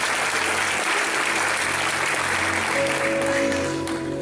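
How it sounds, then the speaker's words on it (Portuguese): Loud, sustained applause from a church congregation, steady clapping filling the whole moment with a faint hum underneath. "Aplauda mais alto ao Senhor."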